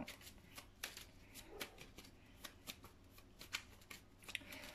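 Tarot cards being shuffled for a love reading, a rapid series of soft papery riffles and flicks repeating irregularly at close range with no talk, fairly quiet overall.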